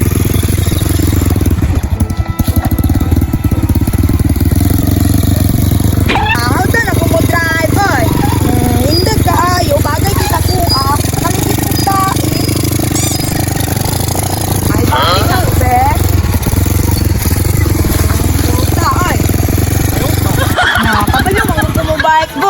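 A motorcycle engine runs steadily nearby with a rough, constant rumble, while people talk over it throughout.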